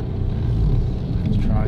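Car wheels spinning on loose ground while trying to climb to a camp spot, a loud continuous low engine rumble and tyre whir held throughout, close up.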